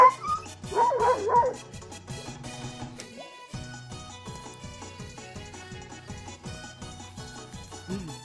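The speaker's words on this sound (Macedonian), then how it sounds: "Кой е ова куче?" A small dog yips and whimpers in high, wavering cries near the start, over a steady rhythmic background beat that continues throughout.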